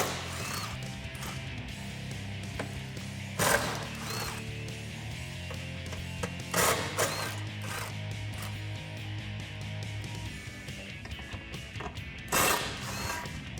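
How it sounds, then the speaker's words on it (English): Impact gun driving a 13mm socket to remove five brace bolts under a 2016-2023 Camaro, with loud mechanical ratcheting bursts around 3.5, 6.7 and 12.5 seconds over a steady mechanical hum. "I'll get a 13mm socket on an impact gun to get these off"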